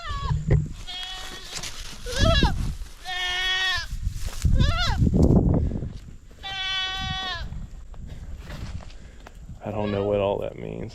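Several goats bleat loudly and close by in a farm paddock, with repeated wavering cries of different pitches spread across the stretch, some overlapping, alongside occasional rustling.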